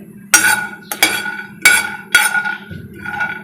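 Peanuts roasting in a pan rattle and clink in four or five sharp, close bursts as they are tossed and stirred against the metal, with brief pauses between.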